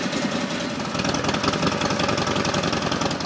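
Motorcycle engine on a flat-tracker-style XR1200 bike in Milwaukee, running at a steady idle with a continuous low, throbbing rumble close by, with no voices over it.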